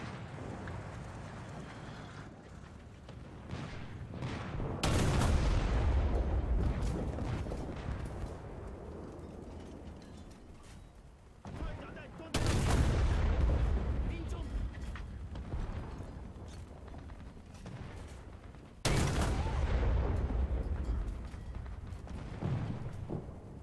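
Three heavy tank cannon blasts in War Thunder, each a loud booming shot with a long rumbling decay, spaced several seconds apart over steady engine rumble and faint speech.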